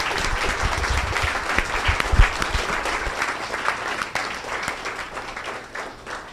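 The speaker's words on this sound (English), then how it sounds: "can we get another round of applause for Betsy Yay, Williamson?" Sustained audience applause at an event talk, a dense even wash of many hands clapping with a brief louder swell, continuing steadily across the whole stretch with faint voices mixed in.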